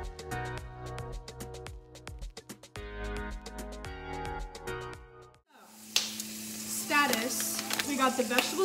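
Mahi mahi fillets frying in a hot pan give a steady close sizzle with crackling spits, following a stretch of music at the start.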